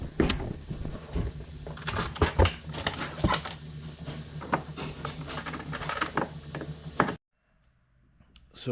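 A BackFlip tonneau cover on a 2013 Honda Ridgeline folds up in a dense run of plastic and metal clatter, clicks and knocks. The noise stops abruptly near the end, leaving near silence.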